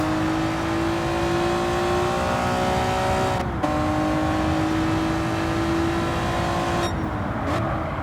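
Honda NSX from Gran Turismo 7 racing at Tsukuba Circuit, its engine holding a loud, steady high drone with a slight pitch dip as a gear changes, then climbing again with a brief tire noise near the end.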